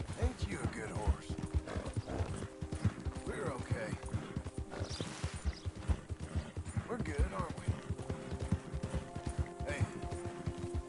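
Horse hooves clip-clopping at a steady walking rhythm in Red Dead Redemption 2, close and continuous, with someone talking over them and a low ambient hum behind.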